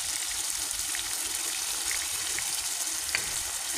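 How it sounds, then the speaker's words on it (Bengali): Spice-washing water is poured into a pan of frying prawns, giving a steady rushing sizzle and gush that holds evenly throughout, close and moderately loud with no voices. "আর মশলা ধোয়া জলটা দিয়ে দিলাম"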